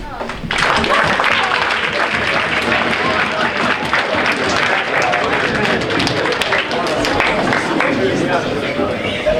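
High school students at an assembly give themselves a round of applause, dense, loud clapping from a large crowd that swells in and continues steadily, with cheers and voices mixed in.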